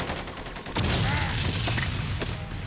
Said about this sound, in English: Full-on gun battles.